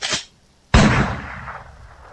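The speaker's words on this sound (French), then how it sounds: "Qui a tiré ce putain de coup de feu?" Two sharp gunshots in the video game Garry's Mod, a brief faint crack followed after a pause by a loud close blast that decays over about a second and a half.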